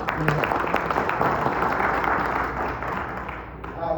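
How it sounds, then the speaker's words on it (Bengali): A gathered Bangladeshi community audience applauding its leaders, a dense continuous burst of many hands clapping that holds steady and tapers slightly at the end. "সবাই আমাদের বাংলাদেশি কমিউনিটি ডেভেলপের জন্য সকল লিডারদের জন্য একটা করতালি হবে ইনশাআল্লাহ"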